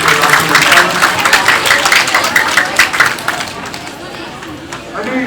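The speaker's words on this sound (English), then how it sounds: "Can we give one more round of applause?" A conference audience gives a round of applause, with dense, close clapping that starts loud and gradually thins out and fades toward the end.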